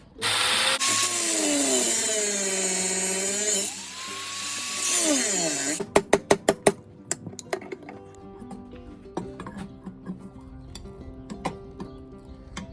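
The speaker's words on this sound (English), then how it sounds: "Let's peel off the rest of the can and see." A steel canister is ground and chiseled off a forged canister damascus billet, with a long, loud, whining grinder cut followed by a run of sharp metallic taps and clinks.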